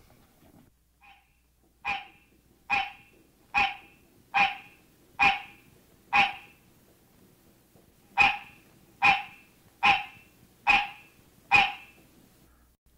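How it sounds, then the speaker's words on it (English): Mating call of a hybrid between green tree frog and barking tree frog: a series of about eleven loud, evenly spaced barking honks in two bursts separated by a short pause, close and clear with no talk. "This is a mating call of a hybrid resulting from the cross-mating of the green tree frog and the barking tree"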